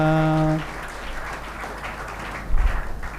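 An audience at a youth motivational seminar in Begusarai welcoming an IG Bihar police officer breaks into sustained applause after a brief tonal note, a dense, even patter of many hands with a louder swell near the end.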